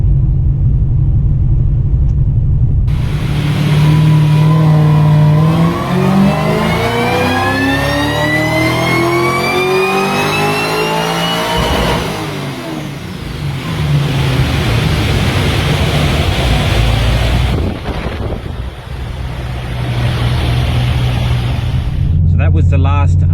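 A supercharged GTS car fitted with an upgraded cam, overdrive balancer and bigger pulley, its engine roaring loudly as it accelerates with a rising whine, then a drop in pitch, easing back and pulling again, with wind rush throughout.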